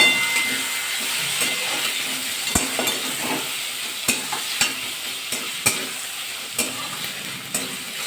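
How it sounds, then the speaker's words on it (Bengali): Onions frying in a pan of hot oil and stirred, a steady close sizzle and hiss broken by sharp clicks and scrapes of the spoon against the pan, with no talking. "হালকা পেঁয়াজগুলো ভাজা হবে"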